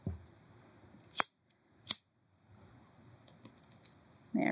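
Scissors snipping the loose ends of waxed cord on a multi-strand bracelet: two sharp, close cuts about a second apart in an otherwise quiet setting, followed by a brief rustle.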